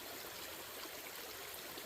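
Creek water streams steadily along a mountain trail on Blood Mountain, a close, even rushing wash that holds constant with no pauses and no voices.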